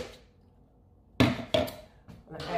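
Ice dropped into a blender for a green smoothie with avocado, green apples and spinach: after a quiet start, two sharp, close clatters of cubes striking the jar, then a lighter rattle at the end.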